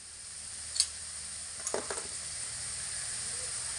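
Onion and garlic frying in a pan, a steady close sizzling hiss with a few quick clicks and scrapes of a utensil midway, no talk.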